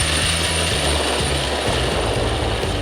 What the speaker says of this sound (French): L'effeuilleuse pneumatique Collard offre une solution sophistiquée en utilisant des jets d'air à basse pression.